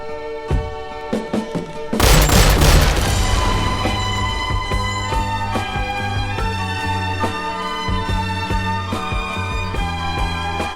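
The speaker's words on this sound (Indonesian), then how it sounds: "Susan pun ditembak oleh Zoller yang ternyata masih hidup" Gunfire in a dramatic film scene, a sharp burst of loud crashing shots followed by a sustained rumbling tail under steady music with rhythmic beats, no talk.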